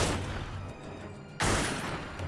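Gunfire in the Splinter Cell Conviction video game comes as a harsh burst of shots at the start, a quieter lull, then a second loud sustained volley.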